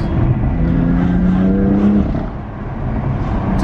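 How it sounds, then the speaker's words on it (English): Newly delivered car's engine revving loud through its exhaust, a deep rising growl that holds, then drops back to a rumbling idle, with almost no talk over it. "the exhaust already sounds pretty sick"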